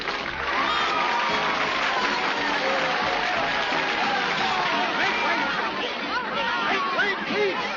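A theater audience in a 1941 film cheers and applauds in a dense, loud, steady roar of clapping mixed with crowd chatter and shouts, lasting throughout.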